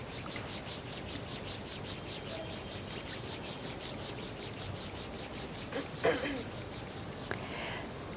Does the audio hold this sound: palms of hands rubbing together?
yes